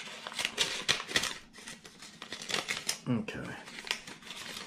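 Mail package holding a sticker being torn open by hand: dense crinkling, ripping and rustling of paper and plastic packaging, close and continuous, with a brief spoken word partway through.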